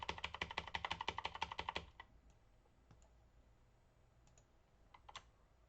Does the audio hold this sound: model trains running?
no